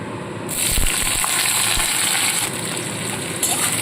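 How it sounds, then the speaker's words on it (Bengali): Chopped onion fries in a pan with a broad, steady hiss that starts abruptly and holds loud and close throughout, with a few light scrapes from stirring and no talking. "পেঁয়াজটাকে একটু ভাজা ভাজা করে নেব"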